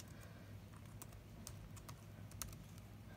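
Steady keystrokes on a computer keyboard as a username is entered on a registration form, quick light clicks in an uneven rhythm, close and fairly quiet with no talking.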